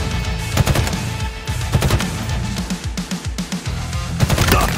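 A Battle Rifle fires in Halo Infinite in rapid three-round bursts repeated over several seconds, sharp and close, with gameplay noise between bursts and no talking.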